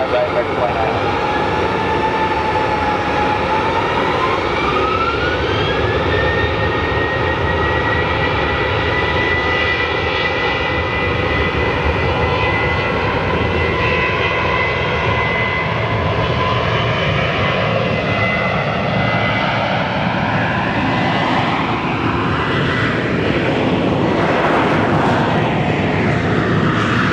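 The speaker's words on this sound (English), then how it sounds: "runway 25 right, take off." A jet airliner takes off from runway 25 Right at Phoenix Sky Harbor International Airport, its loud engine roar building over a long stretch with whining tones that rise and sweep as it accelerates.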